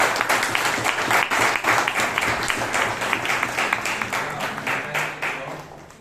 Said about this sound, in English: So please give Shreya Sadugol a big round of applause.